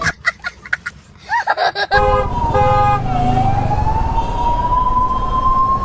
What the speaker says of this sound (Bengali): পিছনে আবার অ্যাম্বুলেন্স